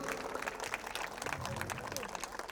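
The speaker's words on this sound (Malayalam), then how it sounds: "വലിയൊരു കയ്യടി കൊടുക്കുക." An audience claps at a Sree Dharma Sastha temple function, a sustained patter of many hands applauding together at moderate distance, steady throughout.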